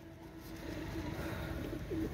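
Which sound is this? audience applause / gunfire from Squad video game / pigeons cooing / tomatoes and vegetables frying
pigeons cooing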